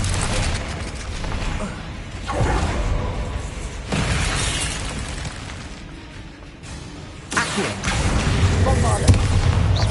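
A Bombarda spell in Hogwarts Legacy explodes in loud booming, shattering blasts that repeat over several seconds against a thick game soundscape, with a voice speaking over it.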